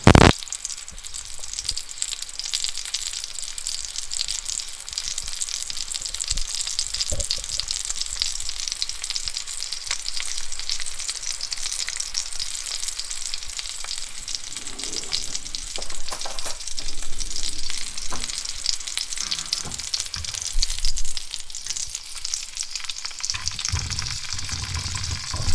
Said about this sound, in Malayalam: നമുക്ക് ഇതൊന്ന് ബ്രൗൺ രൂപത്തിൽ ആകുന്നവരെ നമുക്ക് ഇങ്ങനെ ഇളക്കിക്കൊണ്ടിരിക്കാം